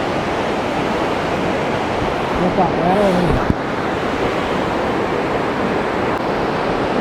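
A waterfall at a village in Karnataka, splashing water giving a loud, constant broadband roar close by, with brief talk partway through.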